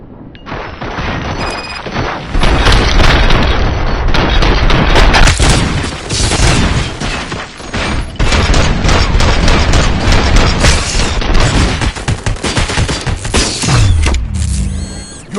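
Sustained film shootout gunfire in a Robocop scene, loud and continuous for most of the stretch, with rapid bursts and heavy booming impacts layered densely together.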